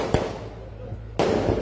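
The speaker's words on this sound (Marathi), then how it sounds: "किती वेळ चालणार आहे ते फटाके?" Firecrackers burst at a public rally in Patkul village, two sharp loud bangs about a second apart, with a voice speaking over the noise.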